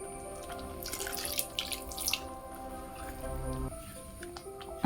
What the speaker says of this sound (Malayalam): അപ്പോൾ ചൂടുവെള്ളം തന്നെയാണ് കേട്ടോ നമ്മളിതിലേക്ക് ഒഴിച്ചു കൊടുക്കേണ്ടത്.